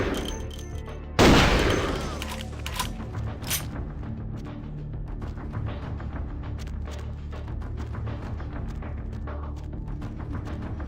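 Rapid gunfire in the video game Vampire the Masquerade opens with a heavy blast, then dense automatic bursts and shots crackle steadily and loudly for the rest of the stretch.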